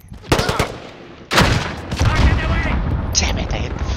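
Rapid gunfire rattles in a multiplayer match of the shooter game Call of Duty Modern Warfare, with loud sharp bursts and cracks close by and a steady din of battle filling the gaps.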